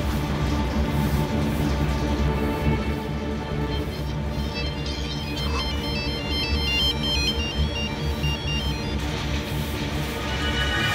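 A phone call's ringing tone plays steadily and loud over a busy background bed, with a chirpy electronic melody repeating through the middle stretch; no one speaks.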